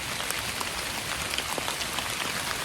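Steady rain falls in a forest, a dense, even patter of drops hitting leaves and ground, soft and continuous with no voices.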